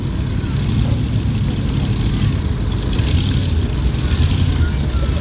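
A 1953 John Deere Super BMD Farmer tractor rated at 50 horsepower runs at an outdoor field days event, its engine droning steadily and continuously at moderate distance.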